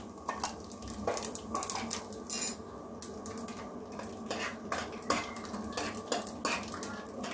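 Whole cumin seeds sizzling in hot oil in a pan alongside whole coriander for chhole: a steady close crackle and hiss, with repeated metallic clinks and scrapes from a spoon stirring against the pan.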